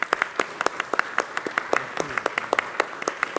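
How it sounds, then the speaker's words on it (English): Applause at a press conference on a papal visit, with crisp, scattered claps from a smallish crowd, moderately close and without talk. "Let's give him a warm applause too."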